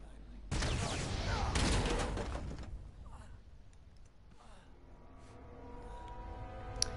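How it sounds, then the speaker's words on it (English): Gunfire and an explosion in the action game Uncharted 2 come as a loud, dense burst of blasts and rattling shots that fades into a rumbling, crackling aftermath. "I'm gonna blind fire here, and now there's an explosion cutscene"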